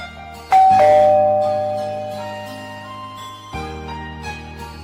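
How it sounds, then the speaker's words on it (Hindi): A doorbell chimes with a bright ding and ringing tones that fade slowly, followed by a second, softer chime near the end. "डोरबेल की आवाज आती है।"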